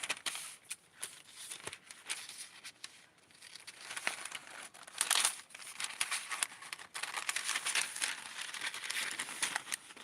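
Scissors snipping through fabric while cutting material for Barbie doll nylons, giving close crinkly crunching and rustling with a few sharp snips, alone without talk.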